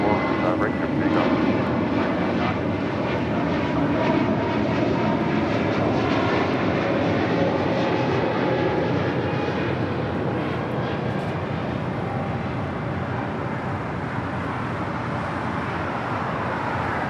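Airbus A320neo jet roaring steadily down the runway on takeoff at LAX, a loud continuous broadband engine rumble that holds level throughout, with faint voices mixed underneath.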